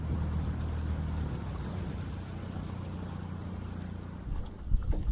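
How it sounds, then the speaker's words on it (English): Steady wind buffets the microphone on a boat out fishing on Lake Macquarie on a cold, breezy morning, a constant low rumble with a few knocks near the end. "It's cold, it's windy."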